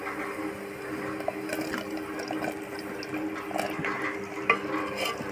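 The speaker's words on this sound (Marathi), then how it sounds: "आता हा कांदा पण छान परतून घ्यायचा आहे" Thick-sliced onions sautéing in a clay pot over a wood-fired stove for a prawn curry, a close, steady sizzling hiss with small pops and scrapes throughout.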